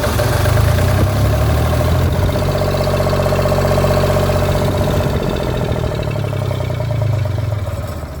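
A freed-up Yanmar/Kubota 3TN three-cylinder diesel engine runs at a steady idle, a loud, even, low rumble with a rapid knocking pulse that eases off slightly at the end.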